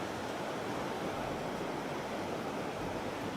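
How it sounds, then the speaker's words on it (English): Ocean surf rolling onto a brown, coarse-sand beach with some rock and coral in Khao Lak, Thailand, a steady broad wash of breaking waves with no voices. "So you get a little bit more surf."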